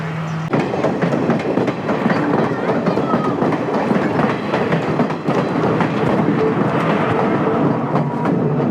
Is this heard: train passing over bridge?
yes